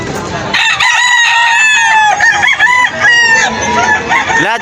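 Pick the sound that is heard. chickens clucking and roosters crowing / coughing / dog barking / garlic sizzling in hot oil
chickens clucking and roosters crowing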